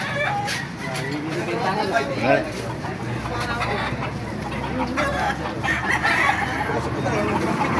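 Chickens and roosters cluck and crow at a busy outdoor poultry market in Baliuag, Bulacan, a dense near-and-far chorus of birds under steady crowd chatter and nearby talk.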